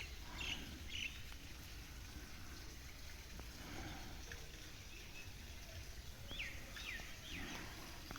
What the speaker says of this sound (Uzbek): Ko'rib turganlaringdek do'stlar, qushlar sayrayapti.